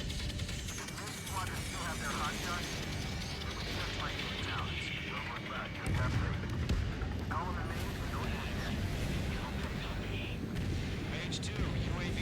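Gunfire and booming blasts from the Ace Combat video game form a dense, steady barrage with a heavier burst about halfway through, while voices chatter over the action.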